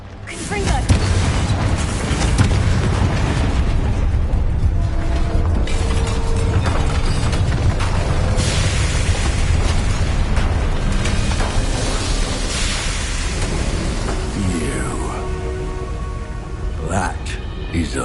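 In Hogwarts Legacy, the Confringo spell sets off heavy, rumbling explosions. Booms and crackling bursts pile up continuously and loudly, with character voices mixed in.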